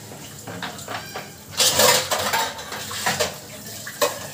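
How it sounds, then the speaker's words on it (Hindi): Breakfast dishes are washed in a kitchen sink: running water with clinks and clatters of pots, plates and cutlery, close and irregular, with no talk. "तो चलिए बर्तन धुल लेती हूँ पहले।"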